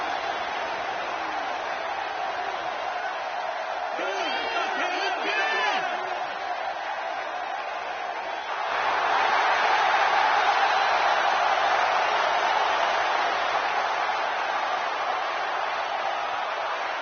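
A SmackDown arena crowd in the WWE 2K16 wrestling game keeps up a constant roar of cheering that swells louder about halfway through, with a brief burst of whooping near the start.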